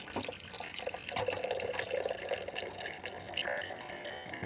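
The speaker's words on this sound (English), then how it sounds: "I gotta fill this up with the hot water." Hot water pouring from a boiling-water dispenser into a container for making coffee, a steady close splashing and trickling stream with clattering knocks throughout.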